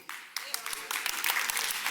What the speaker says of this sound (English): I knew that was going to get some applause